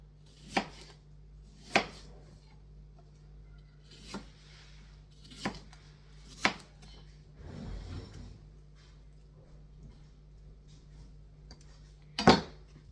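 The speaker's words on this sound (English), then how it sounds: "I'll start chopping the apples" A knife chops apples on a board in a quiet kitchen, about seven sharp, separate knocks spread irregularly, with a soft rustle partway through.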